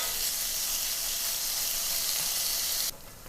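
Bacon sizzles and fries in a pan, a loud, dense, steady hiss of spattering fat that drops off sharply just before the end.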